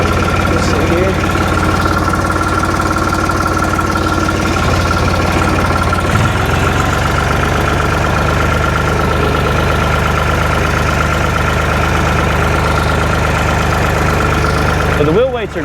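A tractor engine idles loud and steady in a close, continuous mid-pitched drone with a slight knock while a new 5-foot bush hog is unloaded; no break in the running throughout.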